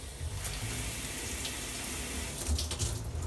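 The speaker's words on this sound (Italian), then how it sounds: "questo regola solo e apre solo la doccia" A hotel shower in Tokyo runs steadily, giving a continuous broad hiss of spraying water at a moderate level, with no voices over it.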